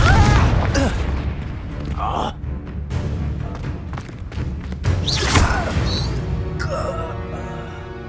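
The Confringo blasting spell going off in Hogwarts Legacy, heavy booming thuds and crashes with a strong low rumble, repeated several times and mixed with voices and game effects.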